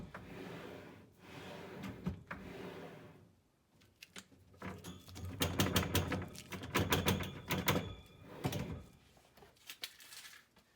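An installed kitchen shelf slider is pulled out and pushed back in several times, with soft rolling slides, rattling clicks and sharp clacks as it stops, close and fairly quiet.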